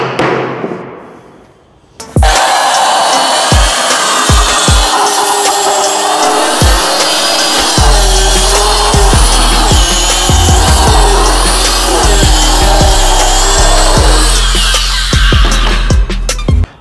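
A wood cutter machine sawing through plywood, starting abruptly with a loud sustained whining buzz and rattling thumps, close and harsh, then cutting off at the end.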